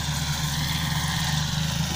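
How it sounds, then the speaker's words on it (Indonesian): A tractor engine runs steadily while tilling dry farmland for horticultural planting, a continuous low mechanical drone with an even hum and no talk over it. "digemurkan dengan menggunakan traktor seperti itu."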